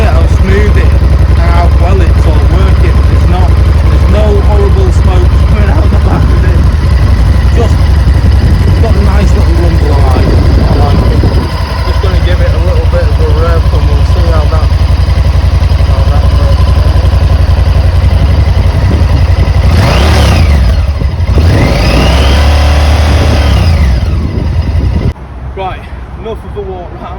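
A Honda XL1000 Varadero motorcycle idles smoothly and steadily, close and loud, with a couple of brief revs near the end, while someone talks over it.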